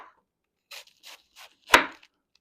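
A knife chopping cabbage on a cutting board for sauerkraut: three quick, crisp cuts in a row, then one louder, heavier chop, each short and close, with silence between.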